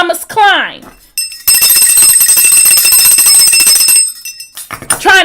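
A bright, sustained metallic bell rings loudly for several seconds, its shimmering tone filling the middle of the passage, with a voice speaking just before and after it.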